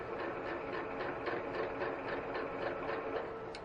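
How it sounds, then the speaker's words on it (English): Domestic sewing machine stitching a quilt patch for a cross patch block, a steady rhythmic mechanical whir with repeating needle ticks running continuously at moderate level, no talking. "Finish off sewing there and start this one."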